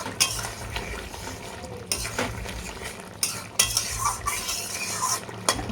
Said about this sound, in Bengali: আমি সবজিটাকে একটু নাড়াচাড়া করে আর এটা আমি নামিয়ে নেব